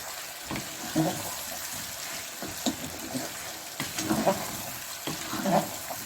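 Potatoes fry with fenugreek in a pan for aloo keema, a soft continuous sizzle broken by several stirring scrapes and clatters, faint and close.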